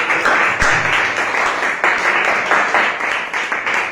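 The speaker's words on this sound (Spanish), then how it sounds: "Dele la gloria y honra a Dios por aplauso." A church congregation claps loudly during a worship service, giving glory to God: close, vigorous applause from many hands with rhythmic surges, and no other sound breaking through.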